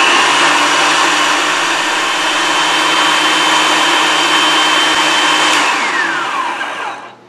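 A Hamilton Beach food processor purees an avocado and cream cheese dip with a loud, steady motor whir that runs unbroken for several seconds, then winds down and cuts off near the end.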